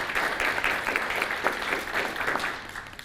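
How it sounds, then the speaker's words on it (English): An audience at the Canada-Taiwan Mackay Global Health Friendship Forum gives a round of applause, a steady, fairly loud wash of many hands clapping throughout. "how about a round of applause for their hard work?"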